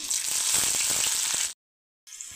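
Chopped green chillies hit hot oil with garlic and cumin in a pan, giving a loud, steady sizzle for about a second and a half before cutting out, then resuming after a short silence.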